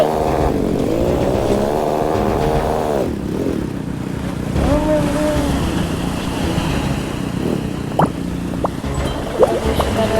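A motorcycle runs loudly through a steady engine drone, its pitch rising and falling as the rider shifts and accelerates, with a few sharp clicks or knocks near the end.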